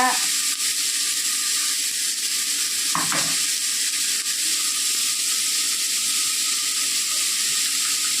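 Garlic sizzling steadily in hot oil in a pan while making idli sambar, a continuous close frying hiss with a brief stir partway through.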